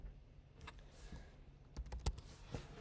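Someone typing a command on a computer keyboard during a computer science class: a few quiet, scattered key clicks with a brief burst of taps near the end, in a hushed room.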